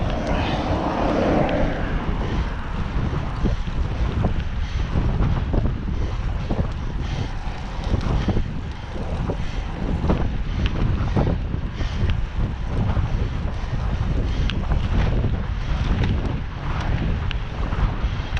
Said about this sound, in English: There's that headwind again.